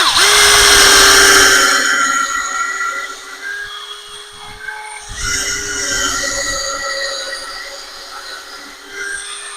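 Tractor-mounted CountyLine post hole digger on a Deere 2025R boring holes for a trellis install, a steady loud mechanical whine with engine drone that dips briefly midway and then resumes.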